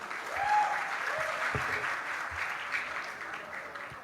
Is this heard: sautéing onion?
no